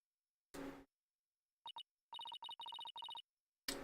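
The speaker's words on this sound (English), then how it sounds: "That's my ringtone." A phone ringtone plays as a run of short, bright electronic beeps in quick rhythmic bursts with gaps between them, bracketed by brief noisy bursts at the start and end.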